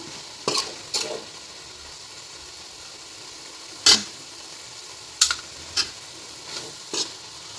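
Intermittent sharp scrapes and clatters of a spoon stirring clams in a pan, spaced irregularly over a quiet low sizzle.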